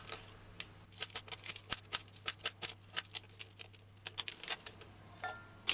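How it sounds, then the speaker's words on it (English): A knife chops raw beetroot into cubes on a cutting board, a rapid irregular run of crisp, close taps and thuds with short pauses, alone without talk. "Cut long pieces, hold them together, and then cut cubes. This is dicing beetroot."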